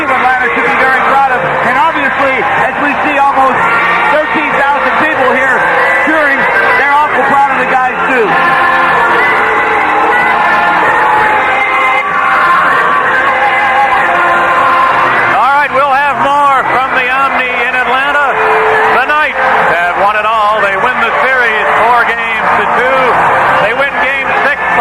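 A crowd of almost 13,000 at an IHL Turner Cup Finals ice hockey game in Atlanta cheers and roars steadily in the background, loud and continuous beneath a commentator talking throughout.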